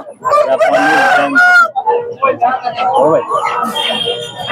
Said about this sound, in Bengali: ভাইয়া, এটা কি জাতের মুরগি? জাপানি ব্রাঞ্চ।